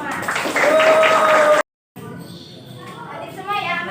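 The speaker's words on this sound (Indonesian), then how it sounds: "Ya, tepuk tangan kita semua." Children clapping their hands together in a classroom, a dense burst of applause-like patter for about a second and a half, then a brief gap before busy chatter and voices resume.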